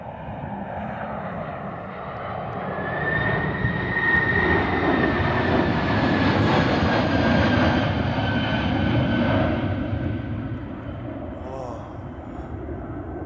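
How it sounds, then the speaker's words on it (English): A Boeing 767 jet airliner going around after an aborted landing, its broad engine roar swelling and holding steady for several seconds with a faint rising whine, then easing slightly as it passes. "767 is forced to go around."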